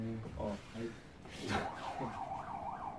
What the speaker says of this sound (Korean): 사이렌 울리네요